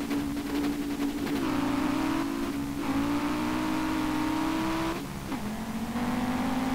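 Rear-wheel-drive race car in the Street Legal Racing Redline driving game, its engine droning steadily and revving through gear changes with brief dips in pitch, loud and continuous with no talk.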